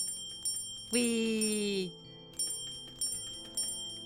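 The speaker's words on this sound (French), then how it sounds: "Une cloche." A bell rings in the video game OneShot, one sustained chime followed by a steady series of regular ticking strikes, with a brief spoken word over it.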